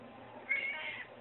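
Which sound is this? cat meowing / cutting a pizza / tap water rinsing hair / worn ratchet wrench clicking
cat meowing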